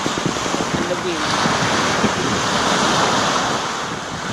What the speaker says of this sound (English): And the wind.